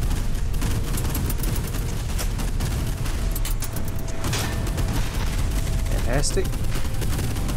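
Rapid clattering gunfire from a PT boat crew in the naval wargame Fortress Assault, dense and continuous over a heavy rumbling bed with booms mixed in, while a voice speaks briefly.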